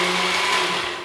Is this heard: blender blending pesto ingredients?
yes